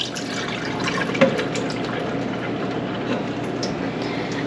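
Water runs steadily from a kitchen tap as soaking deer meat is rinsed and drained, a continuous close splashing wash with a small clunk partway through.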